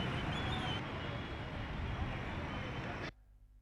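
Layered film background ambience of cars passing on a road, a steady broadband traffic wash that holds evenly and then cuts off abruptly near the end.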